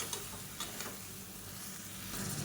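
Chopped vegetables sautéing in oil for biryani, a continuous bright sizzle with a few soft stirring scrapes, close and steady.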